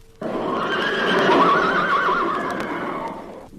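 A horse gives one loud, sustained neigh that rises and wavers for several seconds before trailing off, heard alone and close.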